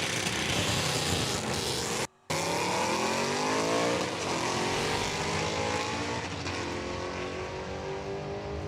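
White Chevrolet S10 truck drag racing down the strip, its engine roaring loud and steady as it climbs through the gears, with a brief dropout near the start and a slowly fading roar toward the end.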